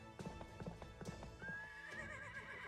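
Horse in the video game Fate/Grand Order, hooves clip-clopping in an even rhythm, followed by a long whinnying neigh that rises and trails off at moderate loudness.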